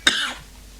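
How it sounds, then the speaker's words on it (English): A single sharp cough bursts out at once and fades within about a third of a second, leaving a quiet room hum afterward. "Sorry for the coughs."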